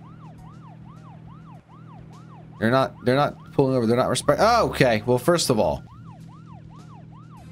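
A police car siren from the video game Deadly Premonition wails in a steady repeating rise-and-fall, loud throughout, with someone talking over the middle stretch.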